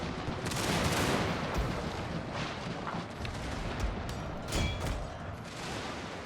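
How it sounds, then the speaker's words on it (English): Artillery bombardment thunders in a historical strategy war game set with Prussia in the Far East. Dense, continuous rumbling blasts and crackling impacts overlap loudly throughout, with no pauses. "right in the middle of the artillery bombardment"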